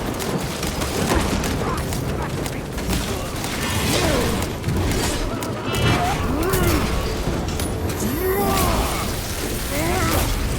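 A shock grenade goes off in Warhammer 40000 Space Marine 2 amid loud, continuous combat din, with crashing, booming impacts and rain-like crackle filling the whole stretch.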